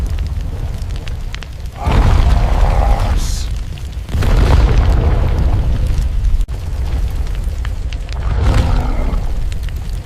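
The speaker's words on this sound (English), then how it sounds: "Tree explodes behind him." Deep, sustained explosive roars and fiery rumbles as a tree blows apart in a burning jungle, several heavy surges rolling one after another with crackling debris in between.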